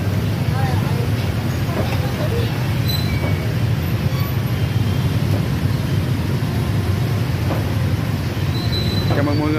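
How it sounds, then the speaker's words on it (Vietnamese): Congested Saigon street traffic in a steady, dense roar of engines and horns, with brief horn-like tones poking through and people talking nearby. "Ôi giờ kẹt xe ta."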